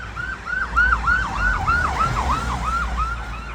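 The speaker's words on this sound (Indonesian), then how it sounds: "Ambulans." An ambulance siren wails in Zitoune, Morocco, a loud two-tone warble cycling rapidly and repeatedly over low traffic rumble, close by and with no one speaking.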